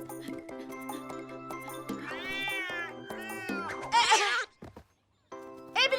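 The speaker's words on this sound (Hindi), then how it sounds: "ये बिल्ली ऐसे नहीं मानेगी।" A cartoon cat in a kids' rabbit show lets out long, wavering meows and a harsh yowl over background music, then falls briefly silent before a last short cry.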